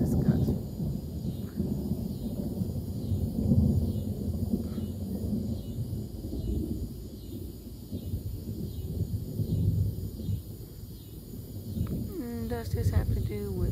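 Thunder from a lightning strike rolls as a deep, continuous rumble for the whole stretch, fairly close and steady, with a brief crackling burst near the end.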